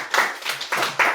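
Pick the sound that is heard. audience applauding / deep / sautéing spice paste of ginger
audience applauding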